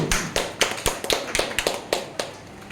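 Hand clapping at a prayer meeting, a series of sharp, fairly close claps in an uneven rhythm, about a dozen over a few seconds.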